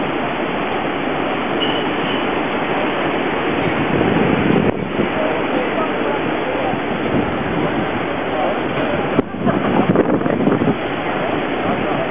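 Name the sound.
ocean waves on the shore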